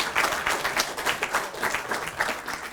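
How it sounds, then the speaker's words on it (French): An audience applauds at the semi-final of a French public-speaking contest. The clapping is dense and steady throughout, with many hands at a moderate distance and no voices over it. "Ça s'applaudit"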